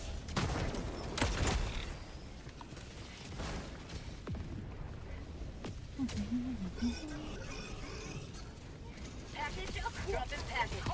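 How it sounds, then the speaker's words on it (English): Enemy artillery in the video game Helldivers 2 lands as a few heavy booms and rumbling blasts among other game noises, with a voice talking over parts of it. "Warning, you are in range of enemy"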